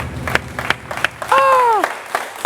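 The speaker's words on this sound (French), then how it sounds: "on applaudit, non" Audience applause in a studio talk show setting, irregular claps with crowd noise and a brief tonal whoop or call rising over the middle.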